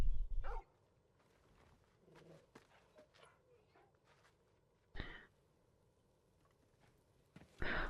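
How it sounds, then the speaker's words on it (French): A wolf dog from the Final Fantasy XVI video game barks in a few short, loud bursts near the start, in the middle and at the end, with quiet game ambience and faint footsteps between them. "le loup, c'est le petit chien du début"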